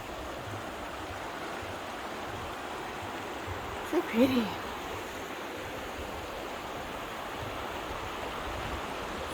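A pretty river flows under a bridge with a soft, continuous rushing wash in the background. A voice speaks briefly over it partway through.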